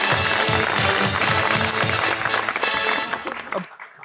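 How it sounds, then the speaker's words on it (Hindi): A studio audience applauds for Fahad Mustafa on a television talk show, dense loud clapping with a rhythmic pulse that fades out near the end. "इनके लिए तालियां होनी चाहिए बहुत सारी।"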